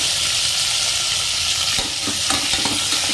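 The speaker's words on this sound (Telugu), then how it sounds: "బాగా వేయించేస్తున్నాను" Tomato and onion fry in a pan, a steady loud sizzle with stirring clatter breaking in during the second half; no voices.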